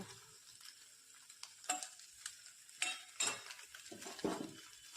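Leftover cooked rice being stirred with puliyodharai tamarind powder in a pan, a gentle sizzle under intermittent scraping and clinking strokes of a spoon against the metal, with no talking.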